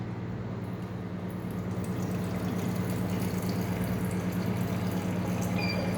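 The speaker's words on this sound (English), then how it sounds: "we can dispense the water like this" An atmospheric water generator dispenses water into a glass, making a steady pouring and filling sound over a constant machine hum for the whole stretch, with no talking.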